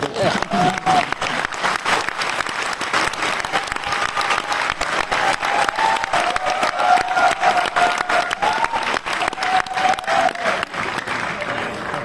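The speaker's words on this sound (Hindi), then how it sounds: "चुटकी बजा लीजिए, ताली क्यों बजा रहे हैं?" An audience at a business training session claps continuously, a dense and steady burst of applause at a fairly even level with crowd murmur underneath.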